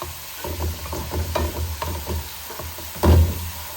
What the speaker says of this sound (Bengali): মশলাটাকে ভালো মতো কষাবো